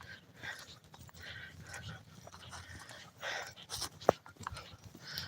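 A poodle pants and snuffles close by in short rhythmic breaths, with one sharp click partway through and faint background noise.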